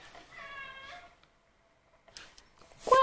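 A house cat lets out a single drawn-out meow, fairly soft and close, then falls quiet before brief rustling and a sharper, louder noise at the end.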